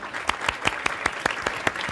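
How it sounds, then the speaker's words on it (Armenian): A TV game show studio audience claps in a short burst, quick sharp individual claps standing out in a steady rhythm over a softer bed of applause. "Ծափահարում ենք։"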